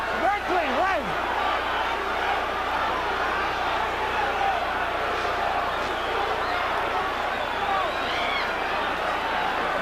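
Arena crowd at the 1989 Mike Tyson versus Frank Bruno heavyweight boxing fight, a dense, steady roar of spectators with a commentator talking over it throughout.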